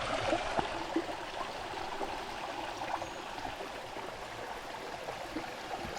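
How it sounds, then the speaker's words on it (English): A creek flowing steadily while water is refilled from it outdoors, a continuous soft trickling and rushing wash at moderate distance with no talk. "Just refilling water."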